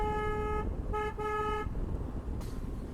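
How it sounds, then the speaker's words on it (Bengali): A KTM ADV 390 motorcycle horn sounds three times, a long tonal honk followed by two shorter ones, loud and close over a steady rumble of road and engine noise. "হর্নটা সেরা সেরা সেরা হর্ন"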